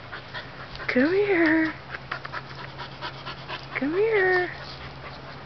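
A puppy pants in quick, breathy bursts through most of the clip, while a person calls out twice over it.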